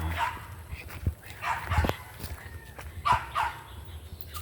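A dog gives a few short, fairly faint yips and whimpering barks in bursts, spaced irregularly, with light background noise and a few brief knocks.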